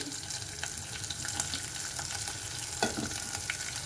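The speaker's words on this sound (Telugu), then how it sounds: "ఉల్లిపాయ ముక్కలు వేసేస్తున్నాను. ఉల్లిపాయ, పచ్చిమిర్చి" Chopped onion and green chillies frying in a pan give a soft, continuous sizzle, with scattered light scrapes and clicks from stirring and no voices.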